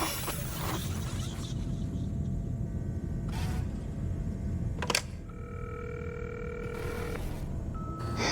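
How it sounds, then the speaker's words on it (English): Telephone in Cyberpunk 2077 giving dial-up style tones and ringing beeps, several steady electronic tones and clicks over a constant low game rumble. "The dial-up ringtone."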